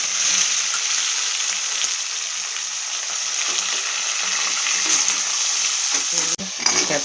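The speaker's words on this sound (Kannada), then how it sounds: "ಹಾಕಿರೋ ಮಸಾಲೆ ಎಲ್ಲ ಫ್ರೈ ಆದಮೇಲೆ ಈರುಳ್ಳಿ, ಕರಿಬೇವು" Onion and curry leaves fry in hot oil with spices for tomato rice. A dense, loud, continuous sizzle is broken by occasional stirring scrapes near the end.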